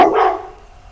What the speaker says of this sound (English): Get that dog.